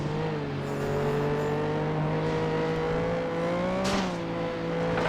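A car engine revs steadily and loudly with a sustained, slightly rising whine, up close in a derby-class event of the PS2 racing game FlatOut 2, on the Canals Special Derby Cup track.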